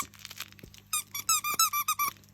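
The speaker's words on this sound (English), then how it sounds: "It's a cake and it squeaks." A squeaky cake-shaped dog toy is squeezed repeatedly, first in softer muffled squeezes, then in a run of about eight loud, high, rhythmic squeaks, close by with no talking.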